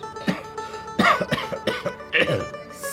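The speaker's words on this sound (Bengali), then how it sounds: "স্যার কাশতেছেন কেন?" A man coughing in bursts of short harsh coughs, several in a row at close range, indoors.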